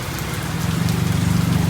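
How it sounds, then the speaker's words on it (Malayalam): Heavy rain pours down steadily in a dense, continuous hiss near a bus terminal in Bangkok, Thailand, with a low engine-like hum beneath it and no talking. "നല്ല മഴ കേട്ടോ ഇവിടെ, കിണ്ടൽ മഴ പെയ്യുന്നുണ്ട്"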